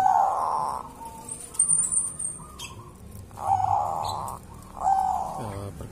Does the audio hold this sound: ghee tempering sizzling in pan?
no